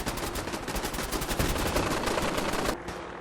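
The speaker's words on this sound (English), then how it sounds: "they're just shooting at my vertibird" Gunfire aimed at a vertibird in Fallout 4 video game, a rapid, continuous volley of shots from several weapons, loud and dense, cutting off abruptly near the end.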